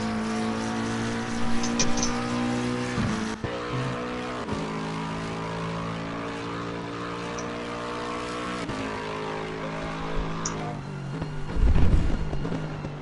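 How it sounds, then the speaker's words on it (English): A McLaren GT3 race car's engine at Paul Ricard in a racing video game holds a steady, buzzing, harmonic note, with abrupt pitch shifts near the middle and toward the end and a brief louder roar at the close. "I do think that McLaren sounds brutal."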